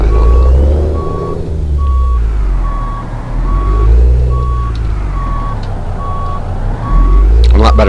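Evenly spaced reversing beeps from a Peterbilt 379 truck backing up in Euro Truck Simulator 2, about a dozen short tones repeating steadily over a loud, low engine rumble that rises and falls.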